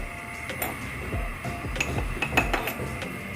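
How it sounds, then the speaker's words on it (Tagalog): Salt is stirred into hot water in a pot, giving light scraping and occasional metallic clinks of a utensil against the pot, close and moderately quiet with no voices. "hahaluin lang natin para malusaw yung asin"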